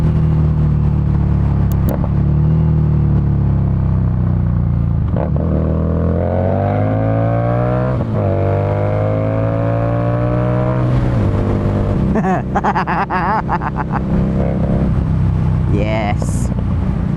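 A 2018 Harley-Davidson Street Rod 750 motorcycle rumbling on a busy road, its engine repeatedly revving up and shifting in rising sweeps, loud and close, while the rider talks over it.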